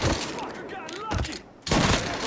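Rapid gunfire bursts crackle in the Mafia 3 crime game, with dense volleys coming and going in quick succession, loud and close, over what sounds like a busy firefight.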